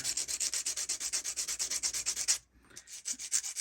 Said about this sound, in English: let's go ahead and do a little sanding on our axle here